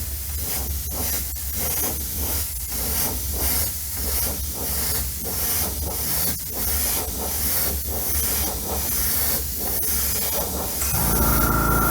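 Steady, close airbrush spraying paint, an even airy hiss that runs without a break for about eleven seconds, with slight rhythmic pulses and no talking.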